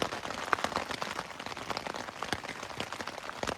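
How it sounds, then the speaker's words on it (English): Steady patter of rain drumming on a tent's thin fabric during a storm, dense and continuous with scattered louder drops, close by and with no voices. "The rain is so nice to listen to."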